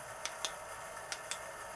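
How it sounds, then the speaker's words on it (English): A Cyansky P25 flashlight's tail switch clicks four times in quick, uneven succession, faint and close against quiet background noise. "Tail clicky seems to be working."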